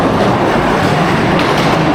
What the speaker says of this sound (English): next up is the classic ghost train, the world's oldest ghost train